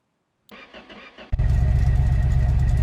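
A Ford F-150 truck engine in a garage-building video game cranks briefly after a click, then catches and settles into a loud, steady rumbling idle.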